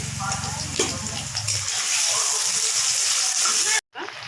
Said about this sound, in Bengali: কেটে রাখা আলুগুলো দিয়ে দিচ্ছি। হালকা লবণ দিয়ে আগে ভেজে নেব।